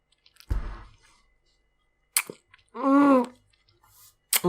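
Sour Toxic Waste Nuclear Fusion candy being chewed close to the mouth, with a few wet crunchy bites and smacking bursts separated by quiet gaps, plus a brief vocal sound in the middle.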